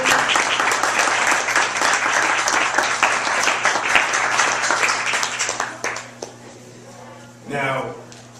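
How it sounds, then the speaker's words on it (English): An audience at an annual economic forum applauds its panelists with dense, loud clapping for about six seconds, which then thins out and fades, followed by a brief burst of voice near the end. "Let's give a good round of applause for all of our panelists."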